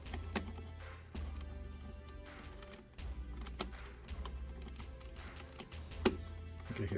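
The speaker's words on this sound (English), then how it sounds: "You can hear everything kind of clicking into place." Plastic LEGO bricks for a Transformers Devastator build click and snap together in a quick, irregular series of small, close, sharp taps over a faint background hum.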